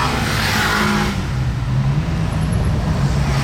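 A Bugatti Chiron Sport's engine rumbles deeply in slow Monaco traffic, a loud, close low drone that swells briefly at the start, then settles into a steady throaty hum.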